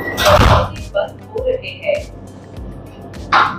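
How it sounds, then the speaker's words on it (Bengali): The automatic door of a Vande Bharat Express train shuts with a couple of dull thuds and bumps, set among nearby voices and platform chatter. "বলতে বলতে দেখো দরজাও বন্ধ হয়ে যাচ্ছে অটোমেটিক"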